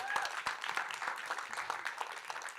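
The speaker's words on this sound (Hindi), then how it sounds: "तो जोरदार तालियां हो जाए रघुवीर यादव जी के लिए" An audience claps steadily in applause for an actor at a film trailer launch event, a dense patter of hands heard up close without speech.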